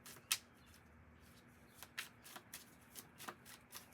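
Tarot cards shuffled and pulled for a reading, crisp riffles and flicks repeating every half second or so, close, soft and alone in a quiet room.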